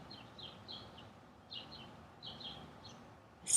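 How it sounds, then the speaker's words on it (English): Birds chirp in short, bright phrases repeated about every second, moderately distant over a soft outdoor hush with no talking. "Birdsong fills the air."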